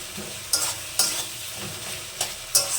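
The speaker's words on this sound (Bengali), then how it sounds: "আমার টমেটোটা সেদ্ধ হয়ে গেছে আমি এভাবে একটু ঘুটে দেবো" Boiled tomatoes being mashed and stirred in a pan for a sour small-fish curry, with a soft wet sizzle broken by several sharp scraping strokes of a spoon against the pan, close and alone.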